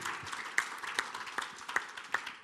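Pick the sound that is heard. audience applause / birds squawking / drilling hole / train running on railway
audience applause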